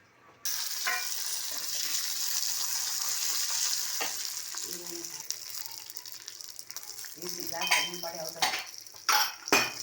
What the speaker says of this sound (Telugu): తాలింపు గింజలు వేగిపోయినాయి